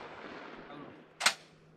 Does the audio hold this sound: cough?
no